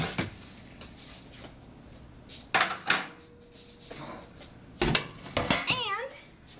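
Metal baking sheet handled in a home kitchen, with a few sharp clanks and scrapes spread across the moment and a voice and short vocal sounds in between.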